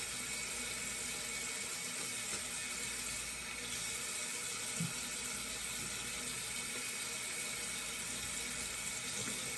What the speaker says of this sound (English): Some warm water in there and swirl, swirl, swirl.